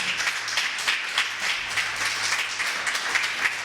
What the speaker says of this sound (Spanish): Alguien dele palmas al Señor en esta tarde